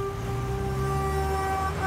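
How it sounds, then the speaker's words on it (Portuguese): Taxi drivers on a viaduct honk car horns in protest, a sustained blaring horn tone over rumbling traffic, no speech. "No viaduto, taxistas passavam e buzinavam em apoio ao protesto."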